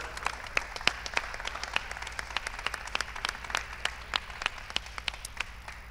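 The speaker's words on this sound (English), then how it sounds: "Round of applause." Audience applause at the BE Festival 2018: a steady round of many hands clapping, evenly sustained for several seconds with sharp individual claps standing out, heard fairly close and alone without talk.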